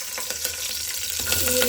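Curry leaves dropped into hot oil crackle and sizzle in a steady close hiss with a few small pops, no talking.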